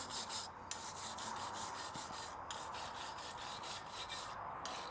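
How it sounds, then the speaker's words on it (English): A small wire brush scrubs gunk off the housing of a Mercury 60HP outboard motor, making steady, rapid rasping strokes in a continuous, close scraping rhythm with brief pauses between bursts. "I went and got a little wire brush I have laying around. We're just gonna scrape all this gunk off and clean it up super nice."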